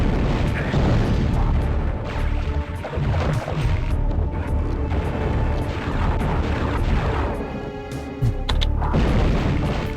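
Firestorm weapon blasts in the video game Hexen, a continuous barrage of heavy booming explosions with crackling bursts, loud and close throughout.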